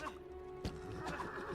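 A horse neighs in the LEGO The Lord of the Rings video game, a brief whinny set inside a dense, continuous game soundscape of music and ambient noise.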